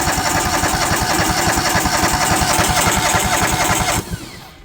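A rusty John Deere L130 lawn tractor with a freshly worked carburetor cranks loudly in a fast, rhythmic chug for about four seconds, then abruptly drops off with a sputter, failing to catch.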